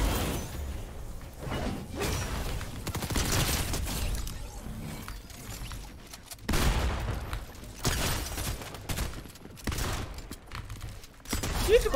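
Assault rifle fire in a battle royale shooter game, with loud bursts of rapid shots recurring across the clip amid clanking mechanical and whooshing effects.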